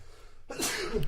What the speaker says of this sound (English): I just sneezed out my lung